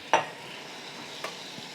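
A pound of 93% fat-free ground turkey breast browns in a pan with a quiet, steady sizzle. Two brief scrapes of stirring stand out, and no one speaks.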